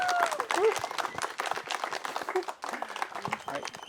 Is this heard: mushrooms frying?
no